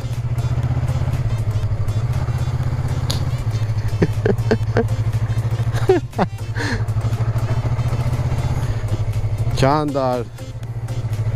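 A Yamaha R3 motorcycle engine drones steadily and loudly throughout a test ride, holding a constant pitch with brief shifts, while a rider speaks over it and wind noise rushes past.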